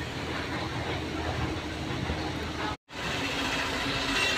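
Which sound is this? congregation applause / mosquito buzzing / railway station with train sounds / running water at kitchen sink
railway station with train sounds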